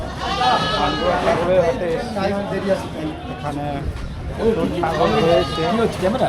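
Goats tied up at a busy wholesale goat market bleat repeatedly, several overlapping calls near and loud, with people talking in the background.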